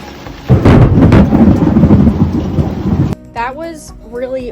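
A thunderstorm with heavy rain, a loud broadband rumble of thunder and rain roaring for about three seconds before cutting off abruptly, followed by a voice speaking.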